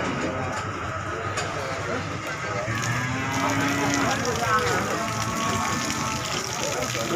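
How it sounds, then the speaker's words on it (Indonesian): Cattle moo repeatedly at a livestock market where Limousin crossbreds and PO cattle are sold, the lowing steady and close amid crowd noise, with people talking throughout. "Kualitas sapi superan."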